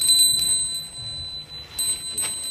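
A small hand bell rings at a Hindu initiation ceremony: bright, clear strikes near the start and again near the end, separated by quiet room tone and soft shuffling.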